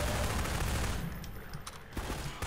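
SMG fire in the video game Minerva Metastasis, a dense sustained burst that thins out midway and then resumes, loud and close, with no talk.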